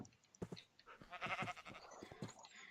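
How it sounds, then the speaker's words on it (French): Sheep bleat in a video game, a couple of wavering nasal cries close up, fairly faint and brief with some clicks around them. "Allez, autre mouton, tu viens?"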